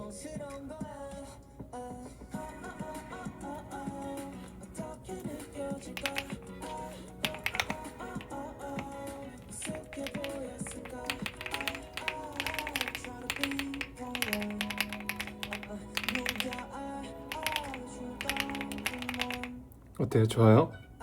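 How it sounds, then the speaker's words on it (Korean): Computer keyboard keys clack in quick irregular runs during a livestream, faint taps mostly buried under people talking and background music. "어때요? 좋아요? 키보드 소리?"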